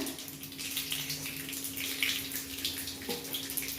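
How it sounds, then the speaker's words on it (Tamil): Curry leaves, mustard seeds and cumin spluttering in hot oil for a jaggery mango pachadi, a soft continuous crackle and hiss with faint pops, alone and fairly quiet. "கருவேப்பிலை நல்லா பொரிஞ்சிட்டு"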